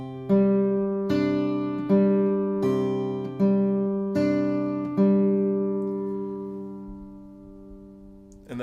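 Fingerstyle acoustic guitar plays two bars of a blues in G, about seven plucked attacks in a steady rhythm with bass and treble notes ringing together, close and clear, then letting the last notes decay alone.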